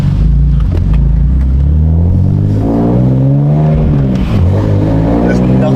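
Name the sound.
BMW E46 engine revving while downshifting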